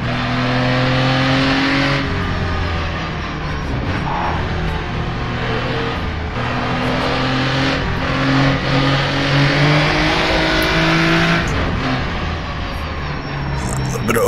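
A Jaguar D-Type race car in rFactor2 on the Isle of Man Mountain Course brakes into Parliament Square and drops down to first gear, the engine note stepping through loud revving blips and tones.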